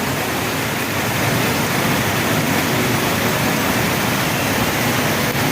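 Heavy typhoon rain and floodwater on a flooded street, a loud, dense, unbroken roar of downpour and rushing water with no pauses.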